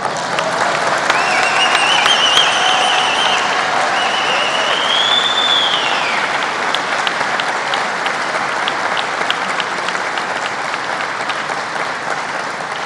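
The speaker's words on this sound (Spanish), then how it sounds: "Otro aplauso." Applause from a large audience at a ceremony for the 200th anniversary of Mexico's Archivo General de la Nación: sustained, loud, dense clapping that slowly thins over about thirteen seconds, with faint crowd voices beneath.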